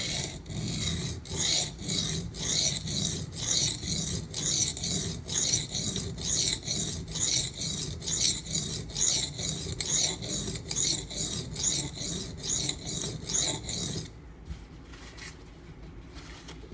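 Knife blade drawn over a coarse, conditioned Schrade Old Timer sharpening stone, giving a loud, steady rasping scrape in even repeated strokes for about fourteen seconds, then a quieter stretch, close and without voices.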